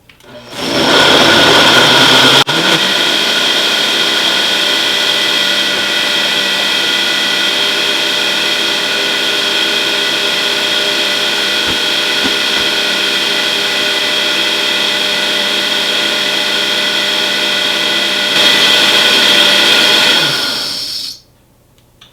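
A blender grinds a green smoothie with a loud, steady motor roar for about twenty seconds. A brief higher surge comes near the end before it cuts off.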